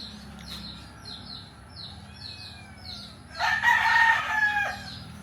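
A neighbour's rooster crows nearby, rising and falling clearly over a backdrop of repeated small bird chirps and light background noise, with no talking.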